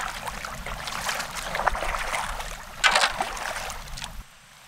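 Kayak gliding on the Buffalo River in Arkansas during a fishing trip, with steady close water swishing and splashing, a louder surge near the end, then a sudden cut to quiet.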